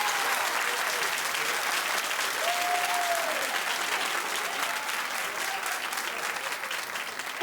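Television talk-show studio audience claps in a dense, sustained burst, loud and even throughout, with a brief voice cutting through near the end.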